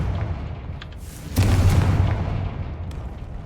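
A Confringo blasting spell goes off in a video game as a sudden booming burst that swells in, then rolls on and slowly fades over a steady low rumble.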